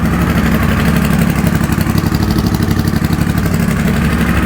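A Triumph Bobber motorcycle fitted with a Motone H-Bomb exhaust idles loud and close, a deep steady throb with a fast, even pulse and no voices.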